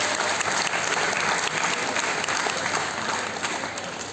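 Steady audience applause at a Class 12 school farewell function, dense continuous clapping from a large crowd that fills the whole stretch without pause and fades slightly at the end.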